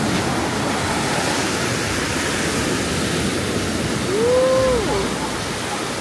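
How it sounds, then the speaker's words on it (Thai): Sea waves washing onto a beach on Koh Samet island in Thailand: a steady, loud broadband wash of surf, close by, with a brief whistle-like tone partway through. "ทะเล"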